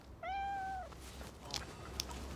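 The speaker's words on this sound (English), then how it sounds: "cat stuck up this tree" A cat stuck up a tree gives one clear, drawn-out meow up close, followed by a couple of faint clicks and quiet background.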